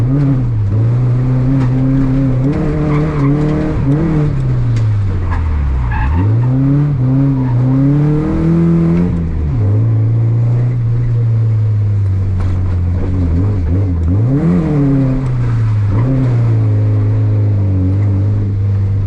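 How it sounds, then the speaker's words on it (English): A Nissan 240SX engine revving hard near redline, loud and close, pitch climbing and dropping repeatedly through long pulls alongside tire squeal and skidding, with no talk. "if I were just to run it in first, we're redlining it before we can even get the wheels spinning"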